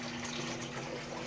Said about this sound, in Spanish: ahora prendemos aquí la manguera, que cae el agua